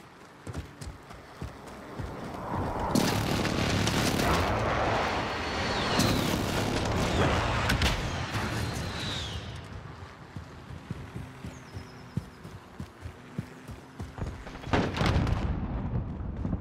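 Precision airstrike explosions in Call of Duty: Modern Warfare on the Backlot map, with a long rumbling blast run in the middle and a later sharp burst among scattered gunfire and game noise.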